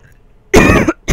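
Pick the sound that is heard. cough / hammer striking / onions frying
cough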